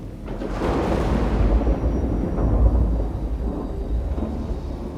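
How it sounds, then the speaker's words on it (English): A storm rages with deep, rolling thunder rumbling continuously, loud and broad, swelling early and then sustaining a heavy low roar. "The only sounds were the storm's fury and the distant rumble of thunder."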